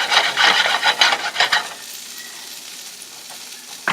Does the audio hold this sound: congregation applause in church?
no